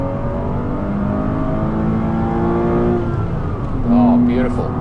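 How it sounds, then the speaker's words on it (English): A 2007 Porsche Cayman 2.7 sports car engine revving up through the gears, rising engine tones climbing and dropping at each shift, loud and close from inside the car, with a brief higher blip near the end. "why don't you do a bit of gear shifting then? I want to hear some revs."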